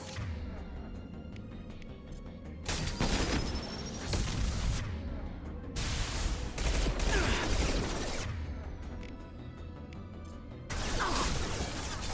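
Gunfire in the Mass Effect 2 video game, with repeated loud bursts of shots and booms coming in clusters over a steady background of game ambience.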